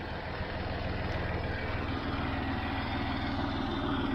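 John Deere 5055 tractor pulling a Fred Cain spring tooth cultivator through field soil, its engine droning steadily and evenly at moderate distance with a low, constant rumble and no pauses.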